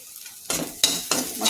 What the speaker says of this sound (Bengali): আলুটা ভালো করে ভেজে নিলাম